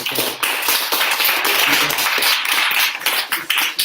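An audience clapping after a talk by a rabbi, loud and close, with distinct individual claps in a steady burst lasting about four seconds.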